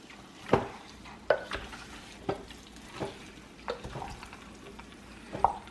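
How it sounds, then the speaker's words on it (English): Pork fat rendering into lard an hour in, stirred in a pot: a low steady sizzle with several distinct scraping, knocking stirs spaced a second or so apart, close and clear, no talking. "Just gonna stir it up a little bit here."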